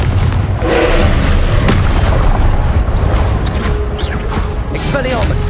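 Fire-spell explosions cast in the video game Hogwarts Legacy, loud booms and crackling blasts in dense succession amid battle clutter, with a voice speaking over them.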